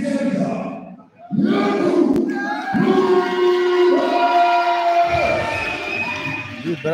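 A crowd at an MMA gala in Namysłów roars after a fight ends, with loud, sustained cheers and shouts that swell and fade over several seconds.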